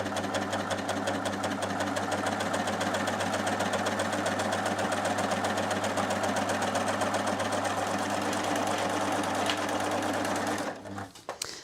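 A Babylock Primo sewing machine stitching a swing stitch runs at a fast, steady whirring clatter, close and loud, before stopping abruptly near the end.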